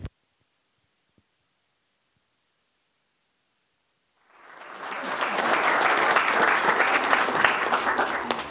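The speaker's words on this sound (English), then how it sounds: "as you can hear, there's a lot of applause in the room" Applause from a room full of people bursts in after several seconds of near silence and then holds steady: dense, loud clapping that fills the space until the end.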